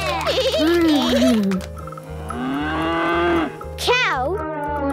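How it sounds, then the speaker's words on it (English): A cow moos loudly several times, long rising and falling calls close to the microphone, over a steady rhythmic low background beat. "Cow!"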